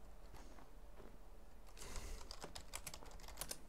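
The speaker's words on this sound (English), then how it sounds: "That was the worst typing." Quiet clatter of typing on a computer keyboard during a Minecraft multiplayer session, a quick irregular run of keystrokes that grows busier toward the end, faint and with no talk.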